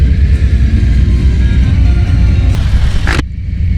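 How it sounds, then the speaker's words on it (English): Motorcycles heading along Clematis Street to bike night rumble past loudly and close by, a continuous engine roar that swells and then cuts off sharply near the end. "see all the bikers going right there"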